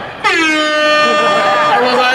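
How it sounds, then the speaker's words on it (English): A single loud, sustained air horn blast cuts in sharply and holds for about two seconds, a bright, brassy tone heard up close at a comedy show. "That air horn pushed me over the top."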